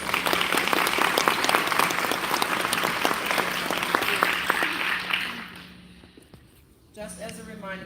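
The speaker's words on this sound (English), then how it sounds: "round of applause to all of our winners." A crowd at a Missouri disability awards keynote applauds award winners: loud, dense clapping for about five seconds, then fading away before a voice begins speaking near the end.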